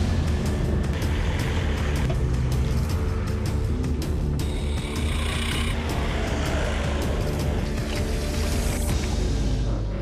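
Off-road rally car, car number 508, leaving the bivouac at Ukraine Trophy 2012, a loud steady engine roar with broadband rumble held for the whole stretch, with no talk.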